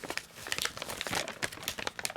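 Packaging of a Nitecore NU53 headlamp kit crinkles and crunches as it is folded up, a close, continuous run of papery crackles and rustles with brief tearing-like bursts, no voices.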